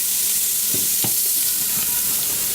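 Pot roast searing in a hot pan in a home kitchen, a loud steady sizzle and hiss of fat, close up, with a few soft thumps as the meat shifts, no talking.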